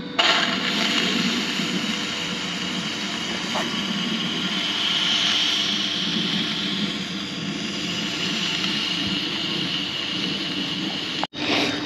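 A 4-inch Foster steam engine named Dolly, on a cold winter day, with its blower turned on: a loud, steady rushing hiss runs nearly unbroken, with one brief dropout near the end.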